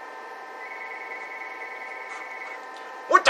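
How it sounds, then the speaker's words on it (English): A telephone rings with a sustained electronic tone for a few seconds, followed by an abrupt clatter near the end. "Answer the fucking phone!"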